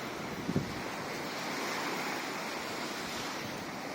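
Surf rolls steadily onto the German Baltic Sea shore in September, a continuous broadband wash of waves with some wind rumble, fairly close and unbroken, with no voices.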